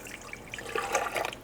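Water pours in a soft, uneven trickle for bread dough, a brief close splashing stream with no talk over it.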